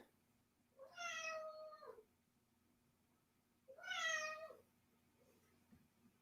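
A cat meows twice, each a drawn-out wavering call about three seconds apart, close and clear over a quiet background hum.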